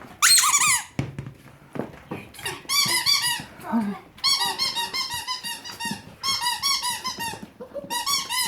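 A rubber dog toy squeaks repeatedly in loud, high-pitched bursts, separated by short pauses and occasional soft thumps.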